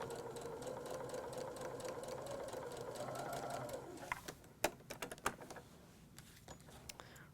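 A sewing machine hums steadily while stitching a quilt block along a pencil line, then stops and gives way to scattered clicks and handling noises, close and quiet with no talk.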